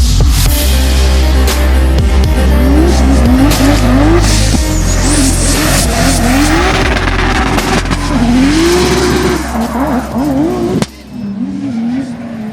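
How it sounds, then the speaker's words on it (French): An Audi A4 drifting at a motorsport drift event, engine revving hard with rising and falling pitch sweeps and sustained tire squeal, loud and close, continuous for most of the run before easing near the end. "Une voiture qu'on a absolument jamais l'habitude de voir en drift, une Audi A4"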